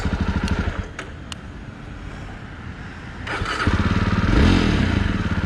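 A 2021 Jawa Perak motorcycle starts and settles into a steady, throbbing single-cylinder idle up close, with a few clanks and clatters early on, then swells into a louder rev toward the end.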